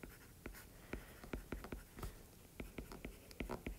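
A maths equation written by hand with pen on paper, a steady run of soft, close scratching strokes and taps at an uneven rhythm, quiet, with no one talking.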